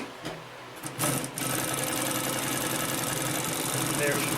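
A Consew P1255RB walking-foot sewing machine for canvas, marine and car upholstery runs loud and continuous, sewing up and over thick layered material with a steady mechanical drone after a few opening thumps.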